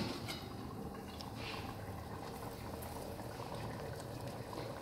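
A pot of panchmel dal simmers on the stove, giving a steady, soft bubbling and hiss with faint pops, continuous and even throughout.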